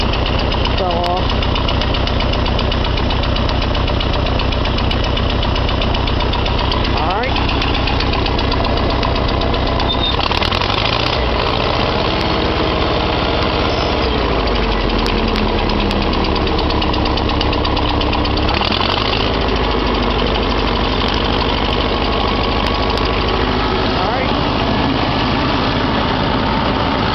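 A Farmall Cub tractor idles after a cold start, its engine chugging loud and steady throughout with a constant low knocking rhythm and slight shifts in pitch, close to the listener.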